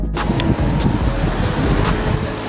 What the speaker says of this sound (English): the cars passing us are going down the coast, or up the coast rather